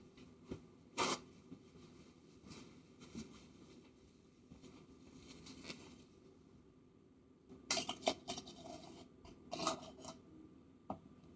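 Dry baking mix with baking powder and a pinch of salt stirred in a bowl, giving soft scraping and tapping strokes with a few sharper clinks of the utensil against the bowl, close and fairly quiet, with no talking.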